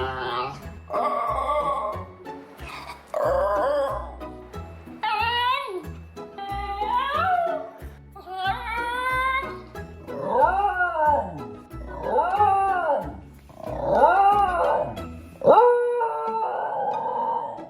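A barkless dog yodels and howls in a series of warbling, rising and falling calls, loud and close, with brief pauses between phrases and no barking.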